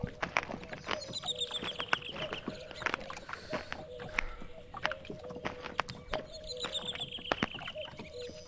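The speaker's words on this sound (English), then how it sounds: "I still hear him walking" Steady footsteps in the horror game Sauna 2000 tapping along at an even walking pace, with faint chirping and a low hum behind them.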